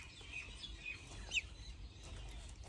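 A baby fig bird in a nest gives a few faint, thin chirps at irregular intervals against a quiet indoor background.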